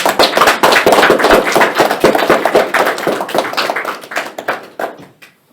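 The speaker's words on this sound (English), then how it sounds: "give a round of applause for Sam Ramlu" A room of attendees at a tech community launch-night event claps for a speaker, a dense burst of close hand claps that thins out and fades to a few scattered claps at the end.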